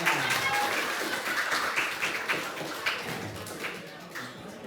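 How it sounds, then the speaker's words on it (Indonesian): A classroom or hall audience applauds at an education talk, a dense patter of many hands clapping throughout, close and steady, with voices mixed in. "Tepuk tangan untuk kita semuanya."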